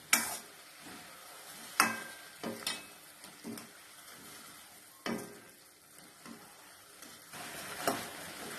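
Sweet mini kozhukattai mixture with cardamom and roasted sesame being stirred in a pan, with soft scraping strokes, sharp clinks of the spoon against the vessel and a faint sizzle underneath.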